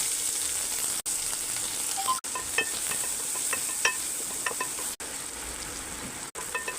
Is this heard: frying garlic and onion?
yes